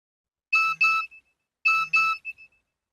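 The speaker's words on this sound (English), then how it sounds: "My mobile phone beeped." Two short electronic beep chimes from a mobile phone message alert, each a pair of bright tones followed by fading blips, separated by about a second of silence.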